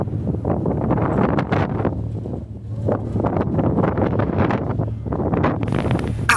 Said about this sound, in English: At full speed on this side of the ship, the wind is certainly giving you a good battering.